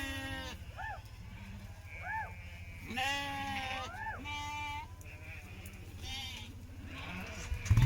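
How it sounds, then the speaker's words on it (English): Sheep bleat repeatedly on a farm during a moorland gather as more of the flock is let out, several overlapping calls near and mid-distance over a steady low rumble, with a louder burst at the very end. "we've just got to let a few more sheep out"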